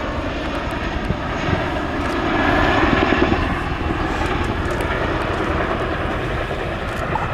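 A Boeing Chinook twin-rotor helicopter of the Royal Air Force flies at an air show, its loud, dense engine roar and rapid rotor chop sustained throughout, swelling slightly in the middle.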